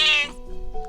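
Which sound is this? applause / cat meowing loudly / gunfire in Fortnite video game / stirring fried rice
cat meowing loudly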